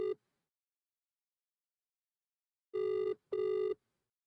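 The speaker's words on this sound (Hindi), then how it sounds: "फोन उठा लो भाई, आपकी जरूरत है अभी भाई." A telephone ringback tone heard while placing a call: one clipped burst, a long silence, then two steady buzzing pulses in quick succession, clear and alone.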